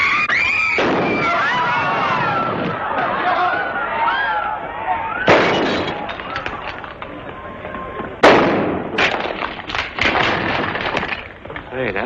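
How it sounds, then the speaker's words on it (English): Gunfire in a Western film scene, a rapid string of loud sharp shots and cracks over several seconds with echoing bursts, while voices shout underneath. "Hey, that fella can shoot."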